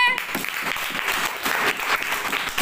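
Classroom clapping during a math lesson activity, dense and steady for a couple of seconds, close and fairly loud.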